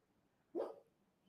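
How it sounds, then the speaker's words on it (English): A single short, muffled bark from a dog indoors, faint and a little distant against a quiet room. "Now my dogs are barking."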